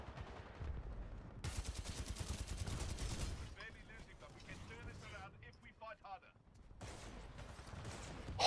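Bursts of gunfire in the video game Titanfall, dense rapid shots in clusters with pauses between, mixed with other battle noise and a voice talking underneath.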